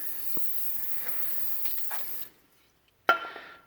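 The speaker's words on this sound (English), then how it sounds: "just take your regular old brake cleaner" Brake cleaner sprays from an aerosol can during rear brake work on a 2014 Ford Escape, giving a steady hiss that cuts off, then a sharp short burst after a pause.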